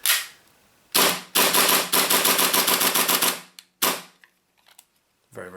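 Tokyo Marui Hi-Capa D.O.R. gas airsoft pistol firing rapidly, with a single shot, then a fast rhythmic string of sharp, loud cracks close by, and a few more shots near the end.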